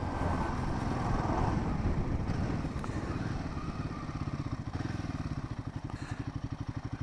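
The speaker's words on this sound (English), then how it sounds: "the engine of the Bear 650 I particularly like the sound" A Royal Enfield Bear 650 motorcycle engine rumbles steadily, with a deep pulsing throb that grows more distinct and rhythmic toward the end, close and loud.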